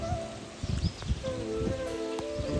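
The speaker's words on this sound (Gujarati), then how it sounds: "અત્યારે ભાઈ વરસાદ પણ ચાલુ થઈ ગયો છે" Rain patters steadily on a village rooftop terrace at night, with scattered drips and taps and a faint tonal hum in the background, and no voices.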